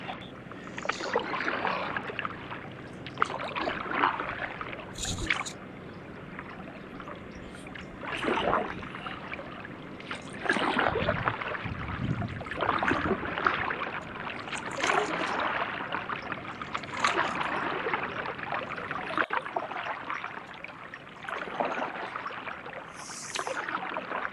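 A kayak being paddled on open water, with steady washing and splashing strokes close by and wind buffeting the microphone throughout, with no talk.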